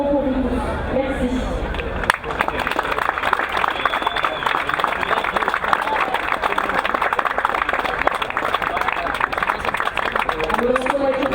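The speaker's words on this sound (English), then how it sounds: "je souhaiterais un vif et un tonnerre d'applaudissements pour vous tous" Spectators at a youth climbing world championship in Noumea break into a thunderous round of applause and cheering after a spoken announcement, the crowd noise dense and sustained, with a voice heard at the start and end.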